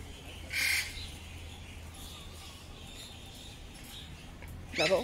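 At a zoo in Bandung, a bird gives two short, fairly faint squawks, one early and one at the very end, over quiet outdoor background noise.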